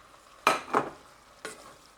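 Sausage with salt and pepper frying in a single pan, heard as a few short bursts of sizzling and stirring, two close together then one more after a pause, with quiet gaps between.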